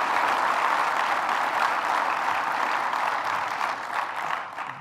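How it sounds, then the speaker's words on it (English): An audience applauds a New York governor at a Finger Lakes regional investment event, steady dense clapping that fills the room and fades slightly toward the end. "Let's give the governor another round of applause."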